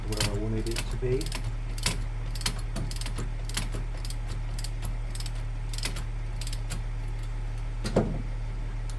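The engine of a 2020 Lincoln Aviator idles steadily in a low hum beneath a run of sharp metallic clicks and taps from nearby work, with faint human sounds early on.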